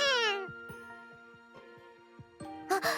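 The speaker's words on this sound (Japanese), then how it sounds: "I hear the cat call out, as if responding to my question." A cat meows repeatedly, close and clear, with long drawn-out calls at the start and end and shorter mews in between, set against a steady low hum.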